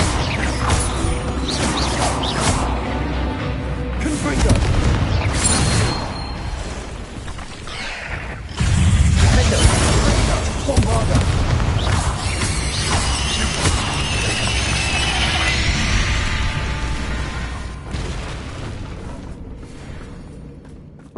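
Confringo spell blasts from Hogwarts Legacy combat crash and boom in a dense, loud stream of explosive impacts and whooshes layered over busy game audio.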